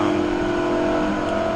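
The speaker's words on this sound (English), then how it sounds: "all I'm doing is revving the car out a little higher" A ChevStang, a turbocharged car with boost creep, revs hard on a dyno with air-fuel safety turned off. The engine holds a loud, steady high-rpm drone with a strong whine throughout, and no voices come through.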